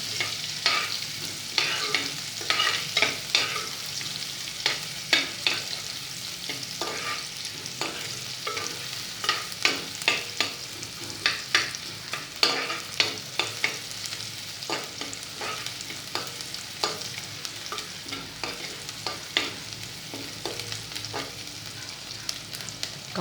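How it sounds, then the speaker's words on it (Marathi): Finely chopped onion sautés in hot oil for a village-style sandage gravy, a steady frying hiss broken by frequent sharp scraping stirs, close and busy throughout with no voices. "याच्यामध्ये आता आपण बारीक चिरलेला कांदा टाकणार आहोत. ते आपण छानपैकी"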